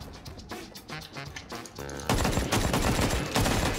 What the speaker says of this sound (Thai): ตกใจเสียงปืนอีกรอบนึงเนี่ย ต้องใช้ AK อ่ะ เสียงนี้สะท้อนมากเลยว่ะ